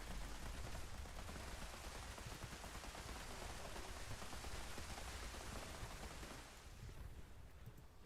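Sustained automatic gunfire from a full magazine being emptied in Fallout 76, a dense, continuous rattling roar lasting several seconds before tapering slightly at the end, with no talking.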